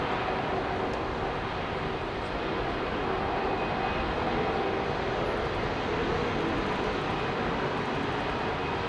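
Boeing 777 jet at Heathrow Airport in the evening, a steady, fairly distant engine rumble and roar that holds level throughout, with no voices.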